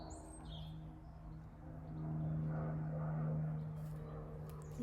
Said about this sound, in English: You can hear a plane going by, the birds.